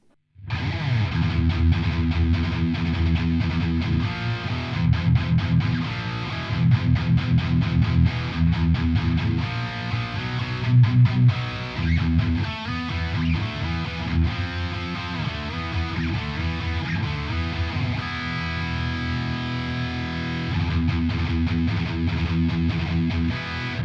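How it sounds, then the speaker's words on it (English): A heavily distorted electric guitar through a Boss IR2 amp modeller chugs and rings out with thick, saturated low end and a hollowed-out midrange, playing a metal tone continuously and loudly without any voices. "You can scoop the mids out and get an absolutely killer metal tone"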